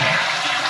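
A toilet flushes after a leaking pipe repair, a steady broadband rush of water pouring through the bowl for under a second, close and loud with no talking.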